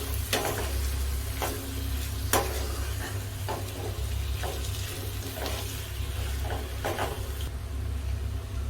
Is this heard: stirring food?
yes